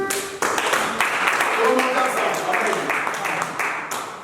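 A church congregation applauds and acclaims Jesus with steady, dense clapping throughout, mixed with raised voices and cheering, fairly loud and close.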